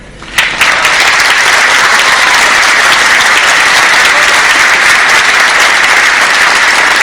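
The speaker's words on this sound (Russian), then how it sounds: "Аплодисменты зала как одобрение" A congress hall audience breaks into sustained, loud applause that starts abruptly and holds a dense, even roar of clapping throughout.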